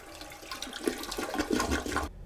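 A single-flush toilet flushes once with a loud rush of water swirling into the bowl, carrying on for about two seconds before it cuts off abruptly.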